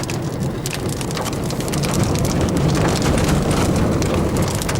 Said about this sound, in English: Big raindrops.